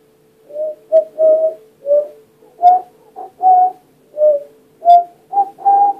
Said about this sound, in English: I can't whistle, I'm sorry.